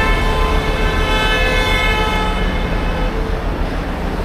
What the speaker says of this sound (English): Keep honking, you'll get there faster.